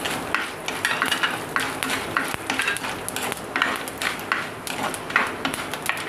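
Cumin and fenugreek seeds frying in a pan for Tamil sundakkai vatha kuzhambu, a steady crackling sizzle with scraping and clinking of a spoon against the pan throughout.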